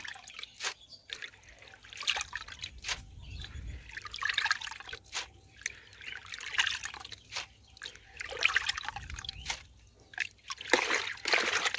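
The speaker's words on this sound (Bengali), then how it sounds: "তারপরে কিন্তু কিছুটা জল বাইরে ফেলে দিয়ে আমি বালতি থেকে চালটা টকার মধ্যে ঢেলে নেব।" Several kilograms of rice and water poured from a bucket into a strainer basket, giving faint, continuous splashing, trickling and sloshing with scattered drips close by.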